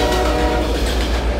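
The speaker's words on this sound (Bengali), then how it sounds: "দূর থেকে কানে এলো ট্রেনের হর্ন" A mail train's horn sounds from afar as the train rushes closer, its loud rumble and rail clatter filling the steady, continuous roar without any voices.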